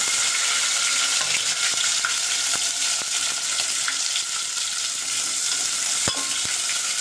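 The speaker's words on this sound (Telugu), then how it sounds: "ఉల్లిపాయలు వేసుకోవాలి." Onions and cumin frying in hot oil in a pan, a steady bright sizzle with occasional clicks and pops, close and loud with no talking.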